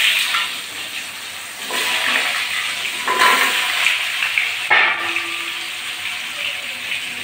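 Cut, washed potatoes go into hot oil in a pan already spiced with cinnamon and cardamom, giving a loud, continuous sizzling hiss that surges a few times; no talking.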